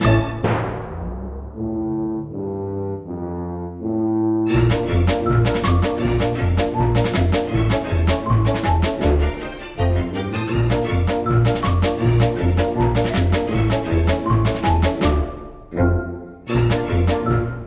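Orchestral strings play a sustained melodic phrase, then a brighter xylophone line answers with quick struck notes, trading back and forth without any talking.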